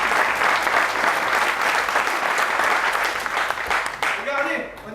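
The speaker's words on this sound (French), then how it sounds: "Vous pouvez l'applaudir." An audience at a stage illusion show applauds a volunteer, a loud, full burst of many hands that fades near the end as a voice begins speaking.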